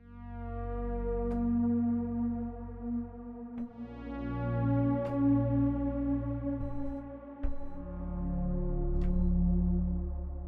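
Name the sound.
wet reverb from Strymon BigSky reverb plug-in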